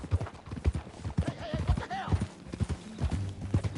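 Horse hooves clip-clop steadily in a PS4 video game, a quick rhythmic trot heard up close with brief game voices in between.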